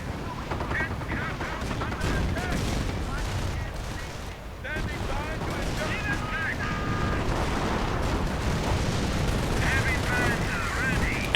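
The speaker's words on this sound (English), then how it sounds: "And Panther getting hit, lots of artillery fire again." Dense, continuous WWII strategy-game battle audio: rapid gunfire and heavy artillery blasts as a Panther tank takes hits, loud and unbroken throughout, with a voice faintly audible underneath.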